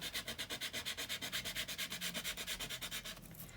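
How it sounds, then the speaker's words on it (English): Rhythmic back-and-forth sanding of an altered playing card, about eight rasping strokes per second, close and steady. It slows and fades near the end, with no talking. "we were now sanding this piece down, weren't we?"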